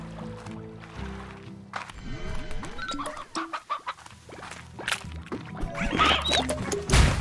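Chickens clucking in the video game Slime Rancher, busy layered clucks and squawks over steady game music and ambient effects, moderately loud throughout with a sharp burst near the end.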